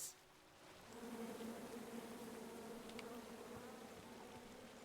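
Swarm of bees droning steadily in King's Quest (2015), a dense, continuous buzzing that swells after a brief dip and holds at a close, even level with no talking.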